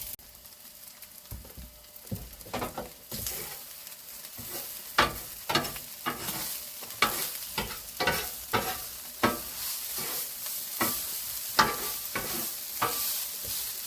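Fried rice with carrots being stirred on a hot griddle, a spatula scraping and clacking in irregular, fairly loud strokes over a steady sizzle, with no talking.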